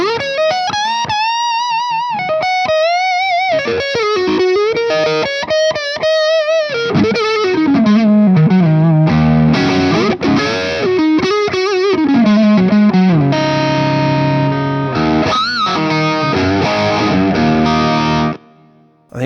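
An electric guitar played through a BOSS IR-200 IR pedal rings out loud and alone, with sustained distorted lead notes and bends, then thick strummed chords and chiming held tones before cutting off abruptly.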